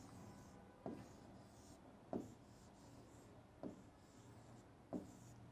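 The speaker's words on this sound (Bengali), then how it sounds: "তাহলে চলো লিখি উত্তর" Handwriting on a board or paper while setting down a math answer: four short, separate scratchy strokes spaced a second or so apart over a quiet room hiss, with no talking.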